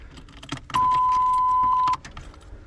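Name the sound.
fuel pump kicking on in a 1987 Camaro IROC-Z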